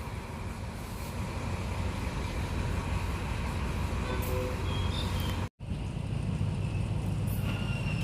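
A train moves through Bangkok railway station, producing a steady, loud rolling rumble and rail noise that continues throughout with only a momentary break.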